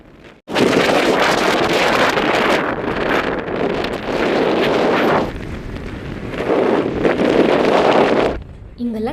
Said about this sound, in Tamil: இந்த இடம் ஃபுல்லாக பயங்கர காற்றுங்க.